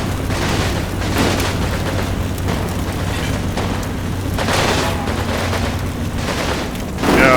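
Gunfire and explosions during a drive-by in the Combat Mission Final Blitzkrieg war game, a continuous loud rumble of booms and bursts with a sharper blast near the end.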